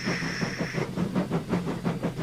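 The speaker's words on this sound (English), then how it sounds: "The guard blew his whistle, and Gordon started." A steam engine train starts off in a children's engine story: a sustained whistle-like hiss gives way to rhythmic chuffing puffs, steady and fairly loud.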